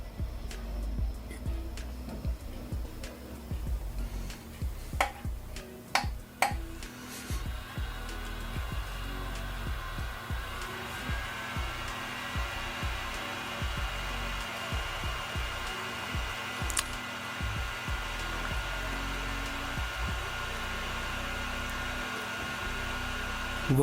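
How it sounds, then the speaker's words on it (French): Cooling fan of a budget 720p video projector running: a steady, moderate whirring hum with a few sharp clicks and knocks early on, and muffled talk in places. "Ça vous permettra donc d'avoir un bon aperçu du bruit de la ventilation."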